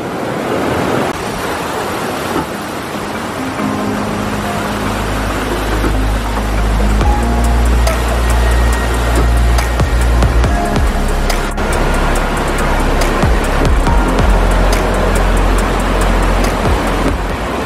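Steady rushing water from a river flowing beneath a riverside eating spot at a Japanese-style tourist site in Malang, a loud, continuous broadband wash with no talk.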